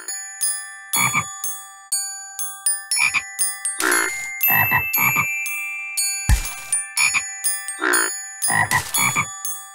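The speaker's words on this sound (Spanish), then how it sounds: "Jorge ha encontrado un grupo de ranas muy musicales" Cartoonish frog croaks from a Curious George video game pop in short rhythmic bursts, layered over bright tinkling bell-like chimes in a playful game melody.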